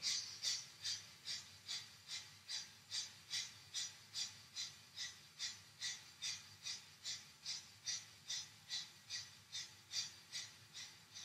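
Kapalabhati yoga breathing: a long run of rapid, forceful exhales pumped through the nose at a steady quick rhythm, about two per second, close and clear with no talking.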